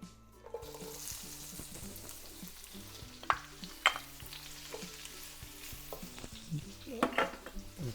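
Onions fry in oil for chicken adobo, a steady close sizzle with a few sharp clinks and scrapes of stirring throughout.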